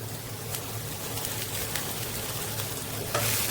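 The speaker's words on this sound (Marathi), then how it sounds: "आता यामध्ये भेंडे घालूया फ्राय केलेले" Fried okra tossed into a pan of cooking potatoes gives a steady, moderate sizzle with a few soft stirring scrapes, heard close and without speech.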